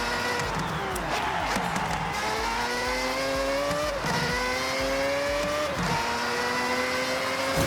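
A Mazda 787B race car's rotary engine howls in Forza Horizon, revving up in repeated rising sweeps with brief drops between shifts, loud and continuous, with tire squeal and faint crowd noise behind.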